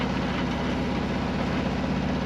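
A 30ft sailboat's engine runs at about 2,000 RPM at sea, a steady loud low drone with a constant rumbling hum and no pauses.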